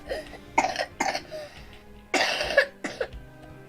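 A few small, short coughs come in separate bursts with brief gaps between them, close and moderately loud in a quiet room.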